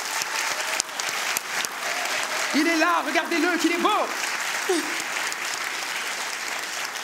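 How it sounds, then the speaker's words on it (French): Enthusiastic audience applause at a university evening event, sustained and loud, with someone speaking over it through the middle. "je vais vous demander de faire un tonnerre d'applaudissements"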